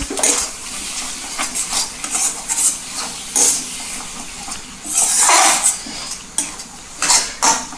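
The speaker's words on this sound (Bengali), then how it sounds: "ধনেপাতা দিয়ে আমি একটু ভালো করে মিশিয়ে নিচ্ছি।" Bombay duck fish being mixed with chopped coriander in a pan, giving repeated close scraping and clinking of a utensil against metal with brief sizzling bursts, no talking.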